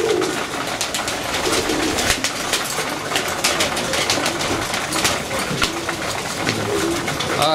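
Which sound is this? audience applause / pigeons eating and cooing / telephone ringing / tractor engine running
pigeons eating and cooing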